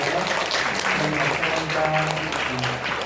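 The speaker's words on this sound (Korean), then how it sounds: "박수로 환영해 주시면 감사하겠습니다." Church congregation applauding to welcome visiting guests, steady clapping filling the room throughout with some voices mixed in.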